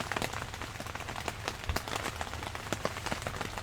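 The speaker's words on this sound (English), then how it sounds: "the molecules in these raindrops" Rain falls steadily on a hard surface. Dense crackling patter with sharper individual drop taps scattered throughout, continuous and close, with no voices.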